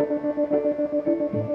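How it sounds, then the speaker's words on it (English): An electric guitar sustains a chord through a vibrato effect whose pulsing wobble speeds up over the phrase, steady in level, with no one talking. "this button gives me vibrato, and you can speed up and slow down the vibrato"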